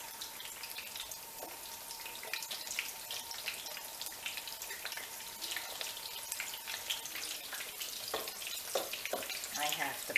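Eggplant slices sizzle and fry steadily in a pan over a very high wok burner, with a soft continuous crackle and a few scraping sounds, close up and fairly quiet.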